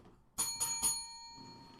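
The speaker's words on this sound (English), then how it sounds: "I'm going to take the bell and I'm going to put it way over here." A hand bell rung at a charity telethon for a donation, three quick bright rings with a ringing metallic tail that fades out, fairly close and alone.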